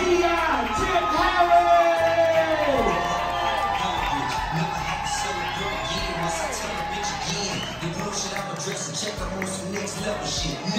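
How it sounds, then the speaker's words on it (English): A comedy-club audience at a Mother's Day dinner show claps, whoops and cheers, a dense crowd roar that continues throughout under amplified music and an MC's shouting voice. "Every motherfucker in here, start clapping right now."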